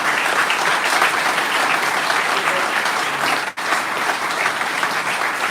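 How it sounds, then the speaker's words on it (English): Football fans at a Hereford FC open training session and fans' forum clap together in steady, loud applause that fills the room, with a brief dip near the end. "if you give them all a big round of applause"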